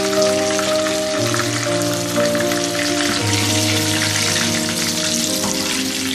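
Chicken wings deep-fry in hot oil with a loud, dense crackling sizzle that runs without a break. A steady low hum sits underneath.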